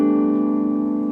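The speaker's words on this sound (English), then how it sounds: "we can also strike using our fingering hand" Natural harmonics on a guitar, tapped with the fretting hand, ring out as one clear bell-like chime that sustains evenly for just over a second.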